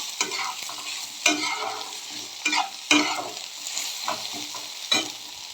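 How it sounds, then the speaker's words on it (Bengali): Egg fried in oil being stirred together with vegetables in a pan for egg chow mein, with a steady close sizzle and several distinct scraping stir strokes at irregular intervals, no talk. "সবজিগুলোর সাথে ডিমটাকে মিশিয়ে দেব।"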